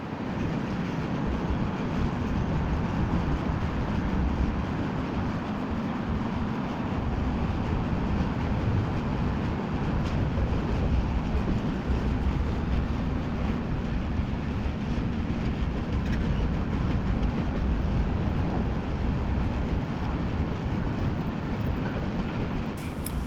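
A long BNSF grain train rolls past near Seattle's Interbay yard, giving a continuous, steady rumble and clatter of freight cars that holds at an even, moderate loudness throughout with no voices.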